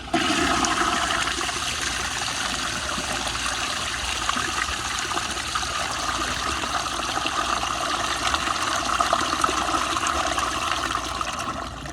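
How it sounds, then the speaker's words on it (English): A 1998 American Standard Spacesaver Cadet toilet on a flushometer gives a somewhat weak flush, a steady loud rush of water lasting about twelve seconds and easing only slightly toward the end. "here's another flush with it a little weaker"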